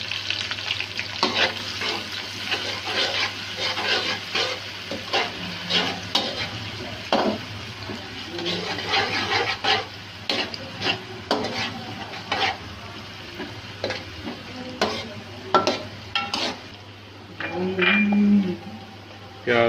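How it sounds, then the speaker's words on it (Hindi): Onions and green chillies fry and are stirred in a pan for a Chinese-style rice dish, a steady sizzle broken by repeated scraping stirs, close and fairly loud, with no talk. "प्याज को थोड़ा सा हमने फ्राई करना है"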